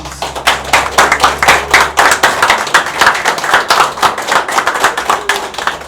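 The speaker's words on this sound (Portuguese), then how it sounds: "Uma salva de palmas a Jesus." A church congregation claps together in a steady, quick rhythm, loud and close, the claps falling in even beats for several seconds without talk.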